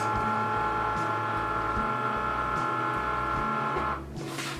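A Cricut cutting machine ejects its cutting mat after cutting heat transfer vinyl, giving a steady close mechanical motor whir with a hum that drops in level near the end.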